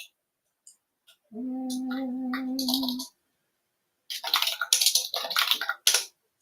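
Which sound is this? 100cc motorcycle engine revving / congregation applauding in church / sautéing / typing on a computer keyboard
typing on a computer keyboard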